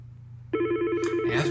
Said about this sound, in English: I can simply pick up my receiver and answer the phone